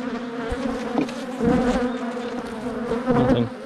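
Honey bees buzz steadily at an open beehive, close and loud. The dense, continuous droning hum swells slightly in places, and there is no talk.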